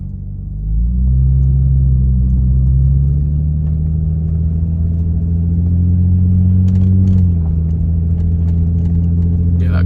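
A car with a 2JZ engine and a modified throttle body idles with a loud, steady low rumble close by. Near the end the engine note sags lower as it falters toward stalling.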